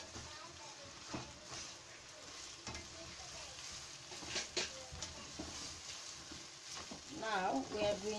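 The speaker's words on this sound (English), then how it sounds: "then we have to mix everything together" Chopped onion and mushrooms sizzle in a frying pan for chilli con carne while being stirred, a quiet steady fry with scraping and spoon knocks, and voices talking over it.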